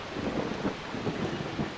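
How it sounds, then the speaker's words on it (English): Thunderstorm in the video game Far Cry 3: low rolling thunder rumbles under a dense, constant wash of pouring rain, fairly loud and unbroken, with no voices. "Oh god, and a thunderstorm."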